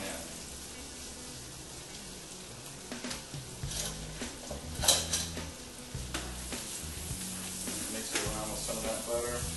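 Shallots softening in butter in a pan, a steady sizzle with occasional stirring and scraping of utensils against the pan, close and moderate in level.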